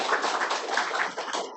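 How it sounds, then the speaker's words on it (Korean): Church congregation clapping together at a Sunday service to welcome back a brother just out of the hospital, a dense, steady patter of many hands filling the room, fairly close and continuous. "박수로 환영하겠어요"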